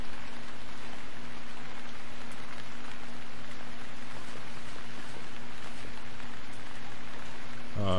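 Steady rain falls in the survival video game Stranded Deep, a continuous even hiss of drops with a faint low hum beneath, holding unchanged for the full length before a brief different sound at the very end.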